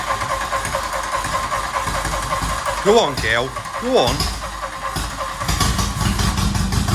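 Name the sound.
VW Golf GTI MK1 engine firing up without exhaust pipe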